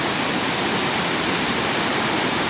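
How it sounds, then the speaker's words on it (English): Waterfall on class 5/6 river rapids, a loud, close, unbroken roar of rushing water with no voices. "Now I'm above the falls, these falls"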